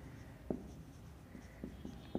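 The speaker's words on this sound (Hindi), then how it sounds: "लिखेंगे" A marker or chalk squeaks and taps against a classroom board in a few short, scattered strokes, close but quiet over a soft room hum, with no talking.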